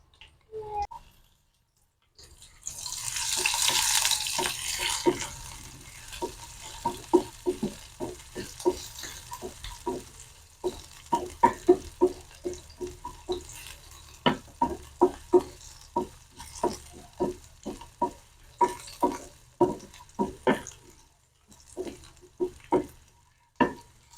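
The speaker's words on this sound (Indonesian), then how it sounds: "ini minyaknya udah panas teman-teman. Bunda masukkan dulu ya. Bunda tumis bawang merah dan bawang putihnya dulu." Shallots and garlic are sautéed in hot oil, starting with a burst of hissing as they hit the pan, then a softer sizzle broken by many crisp, close spatula clinks, with no talking.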